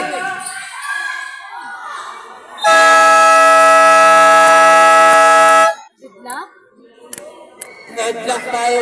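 A loud, sustained basketball shot-clock buzzer blares for about three seconds amid an arena crowd, with an announcer talking before and after and sneakers squeaking.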